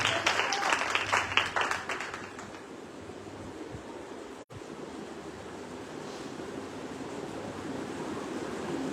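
Church congregation applauding during a Sunday service, a dense wash of clapping loudest in the first couple of seconds, then thinning into a steady, softer crowd noise with no speech.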